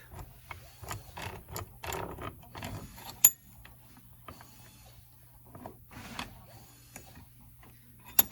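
A socket wrench ratchets while loosening a faucet cartridge held in a clamp. It gives bursts of quick, close mechanical clicks with short pauses between them and a few sharper knocks.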